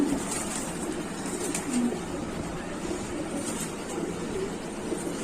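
Bagha Kasha pigeons cooing inside a pigeon shop, soft low repeated coos scattered over a steady background hum, moderately close with no clear speech.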